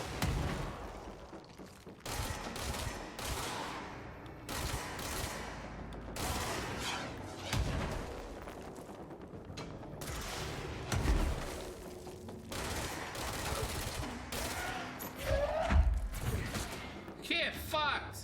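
Rapid bursts of gunfire in the video game Control, sharp repeated shots and thumps in clusters over nearly twenty seconds, with a voice talking between volleys.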